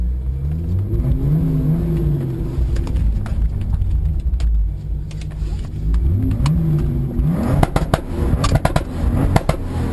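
A 900+ horsepower turbocharged Toyota Supra accelerates hard, its engine note climbing through rising revs with gear changes and then building again, while sharp pops and crackles burst near the end over a loud, close rumble.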